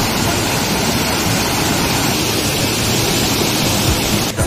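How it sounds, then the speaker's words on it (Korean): Steady broadband roar of water pouring down at a waterfall in Taiwan, a dense continuous rush heard close and loud with no pauses from start to finish. "스폰 폭포입니다. 스폰 폭포."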